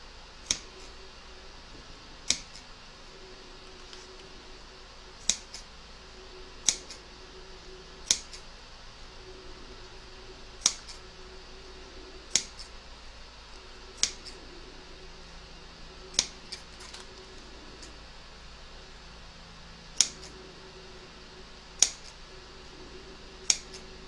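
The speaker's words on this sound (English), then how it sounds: "we're going to snip towards the stitch line and create little notches" Scissors snip notches toward a stitch line in fabric for a sewn mandala coaster, about a dozen crisp, close single cuts spaced a second or two apart over quiet room tone.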